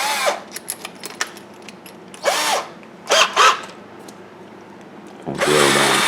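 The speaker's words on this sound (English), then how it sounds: "And take a larger drill." A larger drill bit bores into a wood carving of a Native American woman with a blanket in several short whirring bursts, with clicks and handling noises between them and a steadier run at the end.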